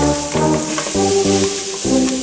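Seasoned chicken frying in a pan with extra colorau added, sizzling steadily and loudly while a spoon stirs it in repeated scraping strokes.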